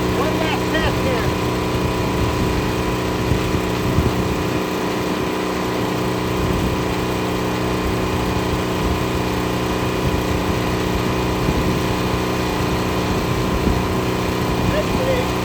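A diesel generator engine runs steadily throughout a storm-prep maintenance test, a continuous droning hum with a low rumble and some intermittent nearby noise and voices over it.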